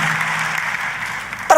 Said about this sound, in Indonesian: Kita kasih tepuk tangannya sekali lagi yang paling meriah buat Tuhan kita.